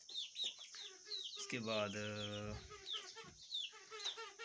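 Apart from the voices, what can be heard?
rooster crowing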